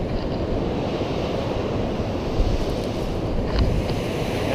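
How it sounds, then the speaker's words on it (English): Surf rolls steadily onto a beach on the Washington coast, a loud continuous wash of breaking waves with wind rumble, no voices. "we're gonna go for a little walk up and down the beach here,"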